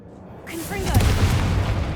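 A Confringo blasting spell goes off in Hogwarts Legacy, a deep booming burst that swells into a sustained rumbling roar with crackling debris, loud and close after a brief whoosh.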